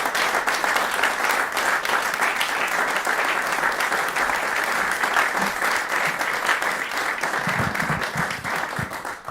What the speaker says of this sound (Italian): Questo applauso lo vogliamo dedicare anche a voi